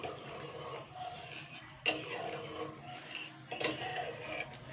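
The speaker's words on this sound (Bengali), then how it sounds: "এবার আমি এটাকে জল দিয়ে ভালো করে একটু নাড়াচাড়া করে নেবো মশলাটাকে" Spice paste stirred with water in a cooking pan, soft scraping and wet sloshing with a couple of sharp metallic clinks of the spoon against the pan, fairly quiet and close.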